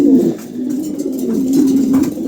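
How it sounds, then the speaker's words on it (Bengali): A pair of pigeons kept for sale coo in a low, continuous throaty murmur, close and fairly loud, with no one talking over them. "খুবই চমৎকার এক জোড়া কবুতর"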